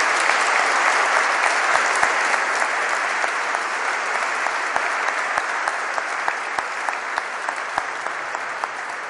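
A church congregation at a Sunday confirmation Mass claps together in loud, sustained applause that fills the room evenly and fades slightly toward the end.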